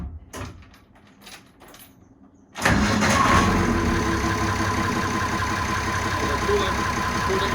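A boat engine on the vessel Venture cranks at about 2.6 seconds after a few quiet knocks, catches and settles into a loud, steady diesel-like running roar that continues to the end.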